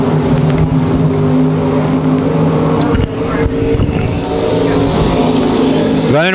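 Race cars roar on a dirt oval at Lakeside Speedway during USRA Nationals heat races, loud sustained engine drone with steady harmonic whine, a brief dip midway and a sharp revving swell at the end.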